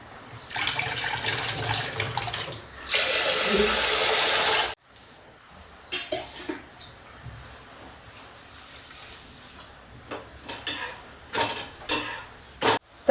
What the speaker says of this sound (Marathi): आता आपला तांदूळ धुवून घेतले.